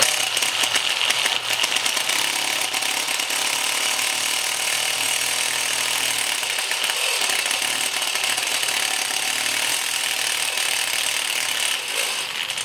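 Power drill boring a hole for a rivnut in a vehicle mount with oil as lubricant, a steady loud grinding whir running continuously with a rattling edge, no voices.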